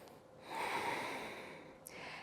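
Steady breath during a yoga movement break, a single soft, airy exhalation swelling through the middle and then easing off, close and quiet with no talking.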